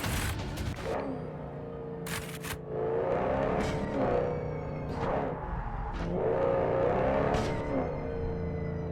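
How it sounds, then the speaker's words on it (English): A car engine in the video game Cyberpunk 2077 rumbles and revs steadily for several seconds, the roar swelling and easing with acceleration, loud and close, alongside sharp intermittent noise bursts. "Look at the sound of that engine!"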